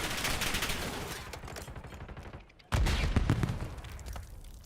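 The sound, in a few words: gunfire from an enemy in the video game Black Ops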